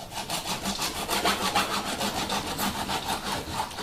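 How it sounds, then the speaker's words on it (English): A knife saws through a lionfish to fillet it, cutting from the back at an angle, making steady rhythmic scraping strokes up close with no talk. "To fillet the fish, you make a cut from the back"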